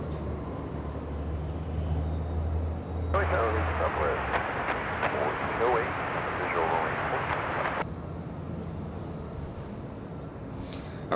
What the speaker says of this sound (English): there goes the Dreamliner